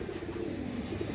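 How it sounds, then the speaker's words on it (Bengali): A pair of white Chuithal pigeons coos softly, a low steady burbling close by against a hiss of background noise. "চুইঠাল বা জুটিওয়ালা কবুতর।"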